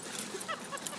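A Pitbull Labrador mix rescue dog whimpers close by, with a few short, high, thin whines in quick succession over a steady background hiss.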